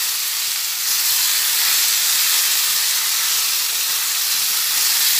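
Sliced pointed gourd (potol) fries in a hot pan, producing a loud, dense, steady sizzle and hiss that continues without a break throughout.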